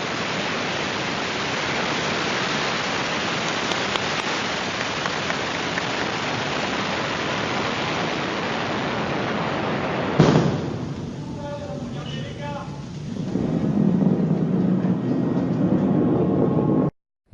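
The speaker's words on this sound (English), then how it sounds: "That was the first launch of the European Space Agency Ariane 5 rocket in June 1996." The Ariane 5 rocket's first launch by the European Space Agency in June 1996 roars as a loud, continuous broadband rumble, then drops abruptly partway through before swelling again into a sustained roar, with no voices.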